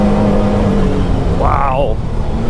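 A Can-Am Maverick R side-by-side engine pulling hard under throttle in a sand wash, a loud steady roar with a rising whine near the end, close and continuous.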